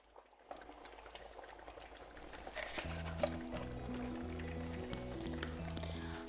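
Italian-style tomato pizza sauce with herbs, salt and sugar bubbles softly in a pot, a quiet steady simmer that continues beneath a gentle melodic tune in the background.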